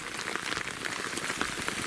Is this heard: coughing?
no